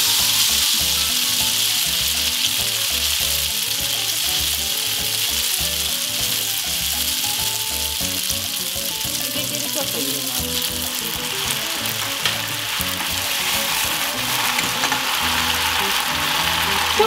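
Pasta goes into a hot pan for an eggplant and cottage cheese dish and sizzles with a loud, dense, continuous hiss and crackle for the whole stretch, close up, with some stirring and a voice talking faintly underneath.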